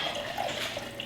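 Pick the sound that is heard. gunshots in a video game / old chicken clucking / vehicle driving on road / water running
water running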